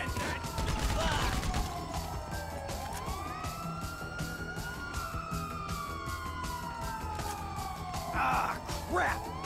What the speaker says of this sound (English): it's the ambulance!